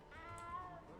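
A frightened little cat in Hogwarts Legacy gives one drawn-out, wavering meow at close range. Quiet speech runs faintly beneath it.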